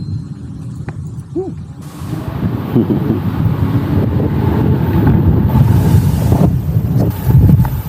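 Steady wind rush and microphone buffeting while riding a Niu KQi 300x electric scooter into a headwind, loud and close throughout, rising toward the end with no talk.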